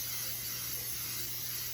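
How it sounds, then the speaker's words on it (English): Cooking spray hisses onto a baking pan being prepared for bread and cinnamon buns, one steady, unbroken spray lasting the whole moment at moderate volume. "Let's spray up the pan."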